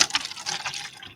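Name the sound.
pouring hot water into a cup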